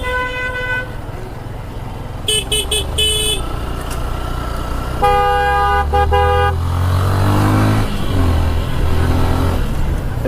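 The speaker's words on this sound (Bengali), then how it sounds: "প্রচুর জ্যাম তো ভাই এই রোডে।" A jammed city road at night, recorded from a motorcycle ride: several car horns toot in short bursts and longer blasts over a steady engine rumble, with a vehicle revving near the end.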